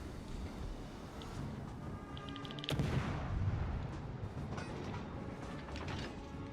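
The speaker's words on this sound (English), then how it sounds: "Bunch of torpedo hits" Torpedo hits exploding against warships in the naval battle game World of Warships Legends, a dense rumbling barrage of blasts that swells sharply near the middle and keeps booming through to the end, with no talk over it.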